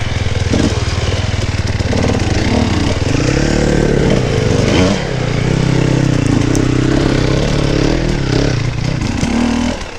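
Enduro motorcycle engine on hard terrain, loud and close, climbing and dropping in pitch through repeated revs and gear changes without a break.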